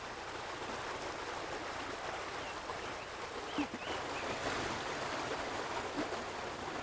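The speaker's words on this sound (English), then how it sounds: "Crystal clear water rises from hidden springs, literally bubbling up through the rock" Clear spring water bubbling up through rock in the lush green hills of the Missouri Ozarks, a steady, even watery rush that runs unbroken throughout, with no voices.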